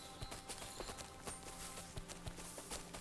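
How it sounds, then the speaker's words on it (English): A horse in Kingdom Come Deliverance 2 clip-clops along in a quick, steady rhythm of faint hoof strikes, set against a low outdoor ambience. "I can jump back on my horse, go meet Catherine."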